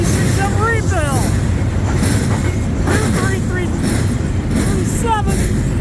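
CN freight train M357 rolling northbound behind an ex-Citirail locomotive at Ladysmith, loud and close, with rumbling wheels, repeated high wheel squeals and a steady clatter, and a voice talking over it.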